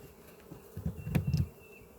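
Honeybees buzz softly at an open beehive during a beginner's inspection, a faint hum with a short, closer burst of wingbeats passing by.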